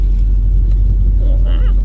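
Project 4x4 truck engine idling after a restart, a loud, steady low rumble close by with a thin whine rising near the end.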